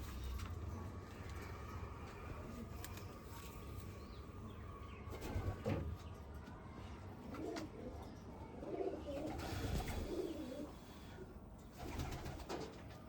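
Golden eyes pigeons coo softly in a loft, with a few low coos and a faint chirp rising over quiet background noise, no speech.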